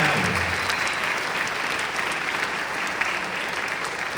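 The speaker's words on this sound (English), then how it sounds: "Give another round of applause for these kids." An audience applauds a student jazz ensemble at a district honor band concert, dense and steady clapping filling the room for several seconds.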